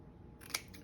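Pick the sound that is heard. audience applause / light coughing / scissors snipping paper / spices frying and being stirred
scissors snipping paper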